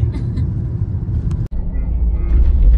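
A newly bought car runs on a road near Airoli, Mumbai, giving a steady low rumble of engine and tyre noise heard from inside, which grows louder toward the end while someone talks.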